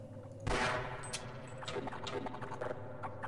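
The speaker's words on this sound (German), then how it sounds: "Ein Schuss." A sharp gunshot bursts out in the video game Half-Life, followed by scattered lighter cracks and clatter at a moderate distance.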